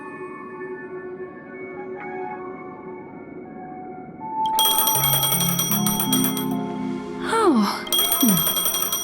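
A phone rings in a video game, a bright repeating electronic tone that starts midway and continues over ambient game music, with a brief voice.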